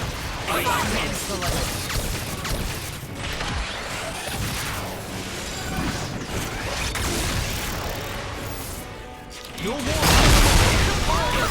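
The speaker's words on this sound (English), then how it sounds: "Steam explosion break. Steam explosion touch." Steam explosion attack in Xenoblade 2 Torna, a loud, dense mechanical blast with crashing, creaking texture that swells and ends in a heavier boom; game music and voices run underneath.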